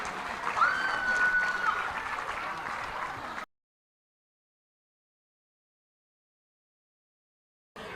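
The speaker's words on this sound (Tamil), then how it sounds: "நல்ல சத்தமா கைத்தட்டுங்க" Applause at a Tamil school prize-giving and festival event rises from an audience, dense clapping lasting a few seconds before cutting to silence, with a brief return at the very end.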